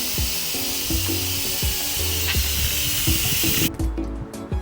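Juices from oxtail cooked in a pressure cooker pour through a strainer to separate out the fat, making a loud, continuous, close splashing hiss with a few soft knocks beneath it, ending abruptly.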